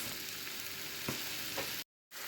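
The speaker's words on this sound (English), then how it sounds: "So we're adding the onions into the pan now. And we're going to let them fry off." Onions frying in oil in a pan for a leftover turkey vindaloo curry, a steady even sizzle with faint stirring clicks, briefly cutting out near the end.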